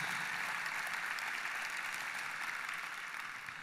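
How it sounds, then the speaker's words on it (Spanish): A church congregation applauds to welcome first-time visitors, a dense, even wash of many hands clapping that holds steady throughout and eases slightly toward the end. "Si es la primera vez que estás con nosotros, este aplauso es para ti."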